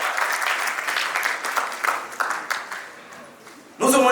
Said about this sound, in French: Est-ce qu'on peut l'applaudir très fort?